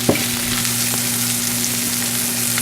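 Mushrooms and bacon sizzle steadily in a hot pan, a continuous close frying hiss with a faint clink near the start and no talking.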